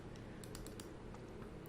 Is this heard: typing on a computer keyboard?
yes